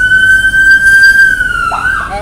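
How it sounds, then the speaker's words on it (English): Ambulance siren sounding out on a street, a steady loud wailing tone that shifts and drops toward the end, heard alone without talk over it. "it's ambulance"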